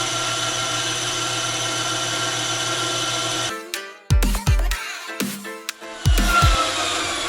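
A bandsaw whines steadily, then stops and restarts, biting into a wooden bandsaw box in short loud cuts to carve a channel in the bottom, with the motor spinning down between passes.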